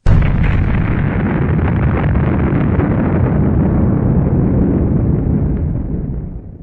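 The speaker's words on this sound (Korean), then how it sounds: "폭탄 투하 완료" A loud bomb explosion sound effect: one deep, roaring blast that rumbles on for several seconds and slowly fades, with no voices.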